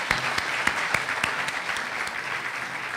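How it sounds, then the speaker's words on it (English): An audience at a Manila speaking event gives warm applause for an ambassador, steady, even clapping from many hands filling the room without a break. "let's give your ambassador to the United States a warm round of applause"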